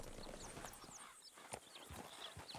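Horse hooves clip-clopping in Red Dead Redemption 2, a steady run of close hoof strikes on the ground, moderately loud, with a light ambient backdrop and no speech.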